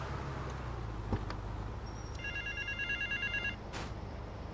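Telephone ringing inside GTA Vice City, a repeating electronic bell in clear pulsed bursts over a steady low game-engine rumble, with a brief sharp knock early on and a short burst at the end.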